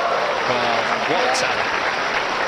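A snooker crowd at the 2012 Shanghai Masters final claps steadily in appreciation of a break, with a commentator's voice speaking over the continuous applause.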